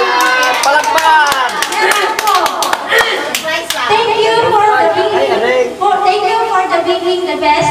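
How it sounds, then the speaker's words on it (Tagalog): A crowd at a Filipino family celebration claps in sharp bursts over the first few seconds, mixed with voices and cheering, then singing or shouting voices take over as the clapping fades. "Palakpak."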